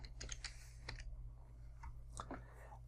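Computer keyboard keys tapped in a few quick, light bursts of clicks, close and fairly quiet over a steady low electrical hum, with no talking.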